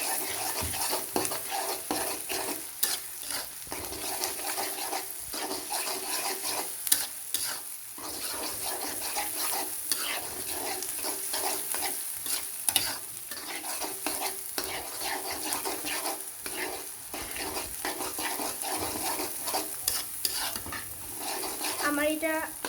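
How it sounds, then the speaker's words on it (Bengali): Spices are stirred into fried onions in a pan for a spicy chicken curry, a continuous close sizzle with a rhythmic scrape and knock of the spatula repeating throughout. "এটাকে ভালো করে নেড়ে নিতে হবে"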